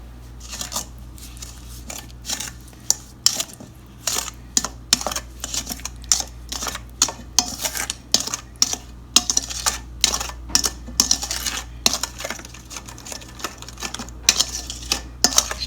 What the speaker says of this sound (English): We should stir it. Should give it a stir. Got my trusty spoon.